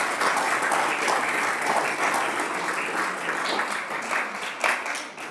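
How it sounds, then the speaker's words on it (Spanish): A church congregation applauds the Lord Jesus Christ with steady, dense clapping that holds at an even level throughout, loud and close, with no speech over it. "Dale un aplauso al Señor Jesucristo."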